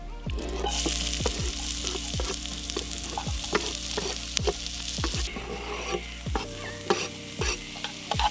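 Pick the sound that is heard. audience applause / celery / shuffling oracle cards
celery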